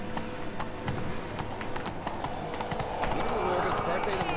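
Roach, the horse in The Witcher 3 video game, gallops with a quick, steady clip-clop of hooves under continuous game ambience, and the pace picks up toward the end.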